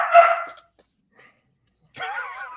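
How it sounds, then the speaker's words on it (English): A small dog barks twice in the background of a live online meeting, one short yip at the start and a second bark-like burst after a quiet gap, fairly close with no speech over it. "I even hear the dog."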